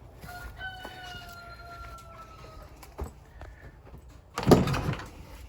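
Chickens in a coop on a meat chicken farm cluck and crow intermittently at close range, with a loud scraping bang of a door or barrier near the end.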